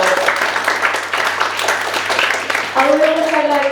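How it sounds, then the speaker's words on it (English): An audience at a careers and negotiation event applauds its panelists, steady clapping that runs under a voice which rises over it toward the end. "Let's give them a round of applause."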